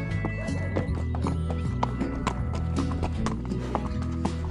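A horse's hooves clip-clop in a quick, uneven rhythm close by, with sharp individual strikes standing out over a low background rumble.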